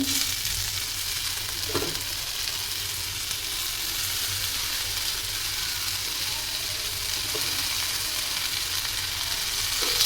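Cleaned dried fish fries with chili powder in a pan for a dried-fish thokku. A continuous close sizzle is broken by a few scraping stirs of a spoon.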